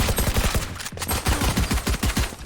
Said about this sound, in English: they're just listening to that gunfire in the distance